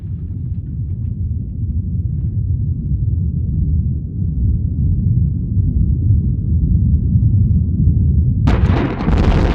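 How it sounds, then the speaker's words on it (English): The Trinity Test, the first atomic bomb detonation in the New Mexico desert, comes across as a loud, sustained low rumble that rolls steadily for several seconds before a sharp, bright burst of noise erupts near the end. "humanity crossed a threshold into a new era with the first atomic explosion"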